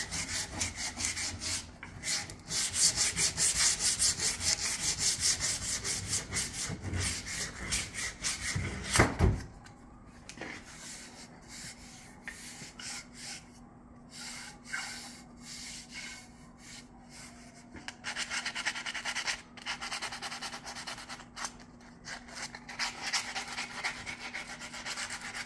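Sandpaper, first 80 grit and then 220, is rubbed by hand along a 34-inch wooden chopping axe handle, making continuous close scratchy strokes that are louder and rougher at first and then lighter and more uneven.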